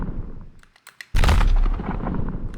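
A cannon shot pitched down: a single deep, heavy boom following a few faint clicks, with a long rumbling tail that lingers and slowly fades.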